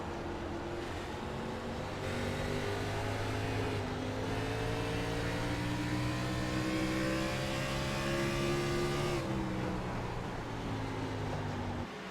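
Race car engines in an iRacing sim race at Richmond, a B Fixed series event, droning steadily with rising and falling pitch as cars pass in a pack for a top-ten position, loud and continuous with no talk.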